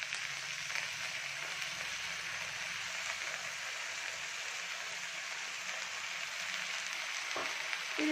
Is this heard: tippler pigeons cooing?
no